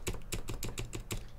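A spacebar key is pressed and fitted onto a keyboard, giving a quick series of about seven light plastic clicks and taps, close up and faint.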